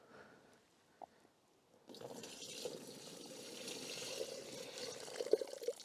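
Water pours steadily into a portable camping shower bag with a soft gurgling rush after a short quiet moment, fairly faint and close.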